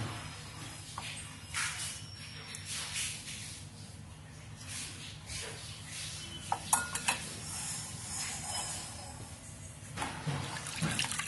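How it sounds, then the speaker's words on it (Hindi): Quinoa is rinsed in water two or three times, giving splashing and swishing sounds with a few clinks of a vessel, fairly quiet and continuous. "इसको हम 2-3 बार बहुत अच्छे से पानी से धोएंगे"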